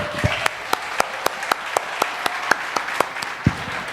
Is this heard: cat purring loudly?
no